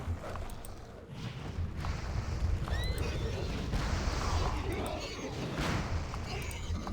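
Horse in World of Warcraft running amid battle: faint whinny calls and hoofbeats buried in a dense rumble of explosions and combat noise, with a voice talking over it.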